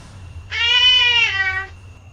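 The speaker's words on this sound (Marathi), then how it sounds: "कॅट. कॅट म्हणजे मांजर." A single clear cat meow, drawn out for over a second, close and loud against a quiet background.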